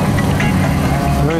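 A Lancia Stratos engine runs at a steady, low idle, a continuous rumble with voices murmuring over it.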